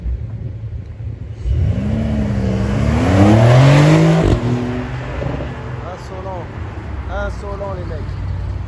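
Porsche 911 with an open, unmuffled exhaust, revving up loudly close by with a rising engine note that peaks and cuts off, followed by lower rumbling and a voice talking over the tail end.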